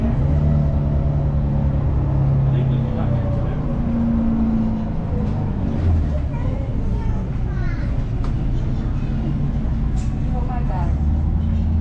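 Bus engine rumbling and whining as it rolls through busy Palma de Mallorca streets, a steady loud drone with traffic noise and passengers speaking in the background.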